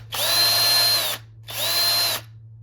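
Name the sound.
power drill making a pilot hole with a small drill bit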